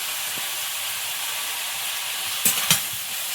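Red amaranth greens go into a hot pan in a home kitchen and sizzle with a steady, even hiss, broken by a couple of sharp clatters and stirring knocks near the end. No one speaks.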